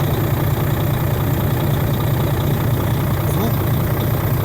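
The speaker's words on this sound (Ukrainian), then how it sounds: "Трошки попрацювала машина і став такий звук." A truck engine idles after about six weeks standing, a loud, steady, monotonous low rumble with a faint hiss running through it.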